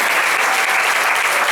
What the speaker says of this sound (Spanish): Y creo que eso Dios merece un aplauso